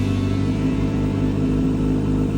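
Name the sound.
motorcycle engine running to warm up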